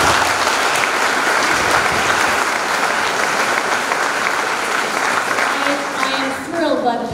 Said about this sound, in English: Now that you have applauded for all of them